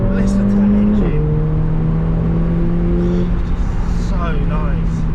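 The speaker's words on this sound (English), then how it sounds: "Listen to that engine." A Mercedes A45 AMG with an automatic gearbox pulls away on the road from inside the cabin, its engine droning steadily with a pitch drop at a gear change. The note stays loud and continuous throughout, with occasional faint voices mixed in.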